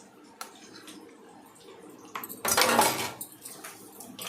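Chicken masala with coconut, coriander and ginger-garlic paste is stirred in a pan, soft scraping and clinks from a utensil, with a brief louder burst of stirring midway.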